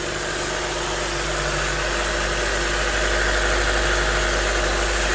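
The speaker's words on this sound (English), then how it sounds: "it sounds better as far as exhaust wise goes" A Honda Civic EF sedan engine idles steadily with a throaty exhaust note, a continuous close, even drone with no voices.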